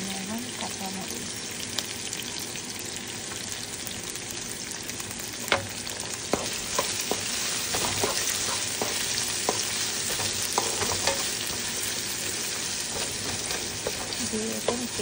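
Green chilies fry with salt and onion in a hot pan, a steady close sizzle running throughout, broken by scraping strokes and clicks of a spoon stirring.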